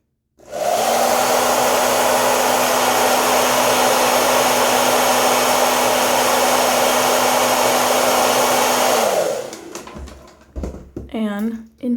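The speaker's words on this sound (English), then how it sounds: "Okay, blow dryer time." A loud blow dryer runs steadily for several seconds, then cuts off, followed by some brief rustling and handling noises.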